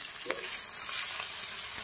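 Fiddlehead ferns fry in oil with turmeric in a small wok, giving a steady, close hiss of sizzling that runs without a break and carries no talking.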